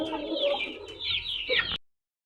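Young male Bangkok fighting chickens, kept in a small backyard coop, cluck and chatter close by in a short burst of overlapping calls, then go quiet.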